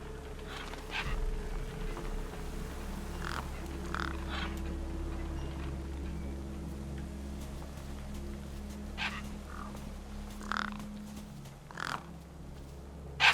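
Crows caw repeatedly in the video game Beyond a Steel Sky, harsh calls in scattered bursts over a low steady background hum, with no speech.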